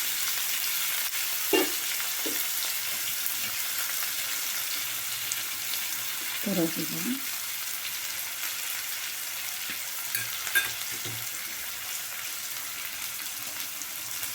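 Onions fry in a pan for a green gram kadaisal, giving a steady close sizzle with a few soft stirring knocks of a utensil and no talking.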